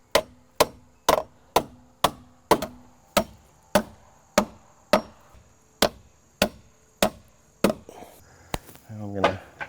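Hammer blows drive 1.5-inch joist hanger nails into a deck post, about sixteen sharp, evenly spaced metallic strikes close by, followed by brief rustling at the end.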